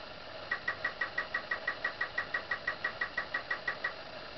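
Prize wheel spinning in the Wheel of Fortune Deluxe Edition SNES game, a rapid, even run of ticking clicks about every fifth of a second that holds steady for several seconds and then stops, heard alone.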